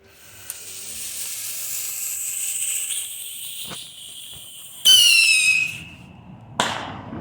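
Neon Winda Travellers novelty fireworks go off outdoors, a long hissing, whistling spray that rises and shifts pitch, ending in a sudden loud shrieking burst and a second short sharp flare near the end.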